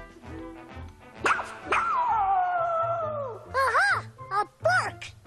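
Cartoon dog barking, voiced by a performer imitating the sound: a drawn-out whining howl followed by several short, sharp yips, close and loud, with bits of speech around them.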